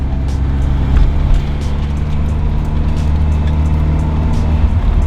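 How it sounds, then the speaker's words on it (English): A car drives along in second gear with an aftermarket short shifter fitted, its engine producing a steady, loud low drone with road rumble and no talk over it. "Second gear. We got a second gear. It's driving."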